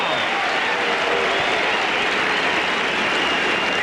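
A tennis crowd at Indian Wells in 2001 applauds a great shot in a Rafter versus Sampras match, a thick, continuous roar of clapping at even loudness throughout.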